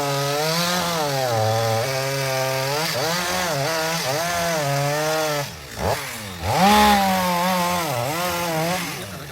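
A chainsaw roars steadily while felling a large, tall kapok tree, its pitch rising and dipping as it bites through wood, with a brief dip and surge near the end as the cut finishes.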